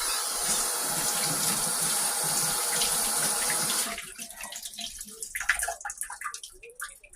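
Water from a kitchen tap runs hard and steady for a few seconds while homemade butter is rinsed, then cuts off, leaving splashing, squelching handling and drips.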